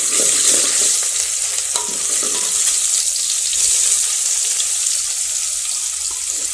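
Chopped onion hisses and sizzles steadily in a hot oil tempering with curry leaves and garlic, a loud continuous frying sound with occasional stirring, and no talk.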